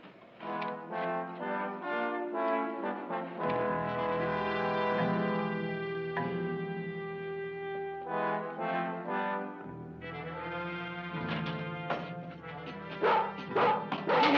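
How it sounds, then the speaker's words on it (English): A sheepdog barks in quick repeated yaps, close and loud, over an outdoor ranch scene with sustained music running underneath. "Filthy sheepdog"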